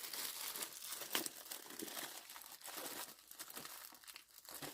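Plastic packaging from a craft-supplies haul crinkles and crackles steadily as a purchase is unwrapped by hand, close and fairly quiet, with a sharper rustle near the start and no talking.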